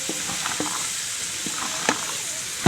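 Cauliflower and peas being stirred as they fry with tempered spices in a pan, a steady sizzle broken by a few sharp scrapes of the spoon.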